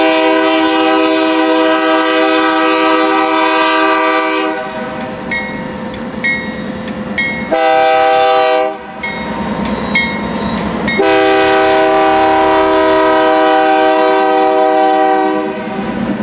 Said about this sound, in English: Today, it's an empty unit sand train off of the Wheeling and Lake Erie, another rather unique train that runs across the railroad.